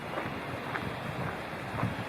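A creek runs beside the Twin Creeks Trail in the Great Smoky Mountains, making a steady, even rush of flowing water that stays at the same level throughout.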